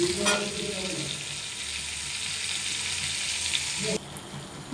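Pointed gourd and black cumin sizzle loudly in a pan, a dense, continuous frying hiss up close, with a brief stirring scrape near the start and a sudden drop in intensity near the end.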